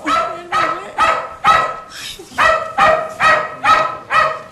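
A dog barks in steady repeated bursts, about eight loud barks spaced roughly half a second apart, close and clear with no talk over it.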